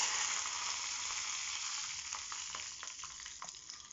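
Curry leaves, garlic, mustard seeds, red chili and cumin crackle in hot oil for a tempering, a steady close hiss with scattered pops and a few stirring scrapes toward the end, no talking.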